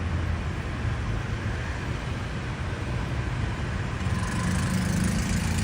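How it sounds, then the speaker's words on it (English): Street traffic in Vietnam with motorbikes and cars gives off a steady, broad engine rumble and road noise that sounds close by and continues without a break. "That's the motorbikes and the cars."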